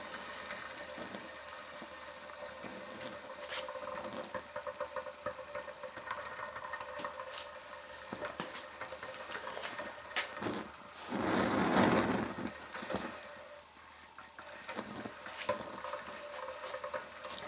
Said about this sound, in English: you can see that the stove is starting to come to life